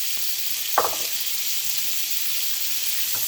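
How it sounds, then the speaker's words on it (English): Sliced onions with a little olive oil and paprika sizzle in melting butter in a cast iron skillet over medium-low heat, a steady soft hiss broken once by a brief louder stir. "let these saute on a medium-low heat until the butter's fully melted"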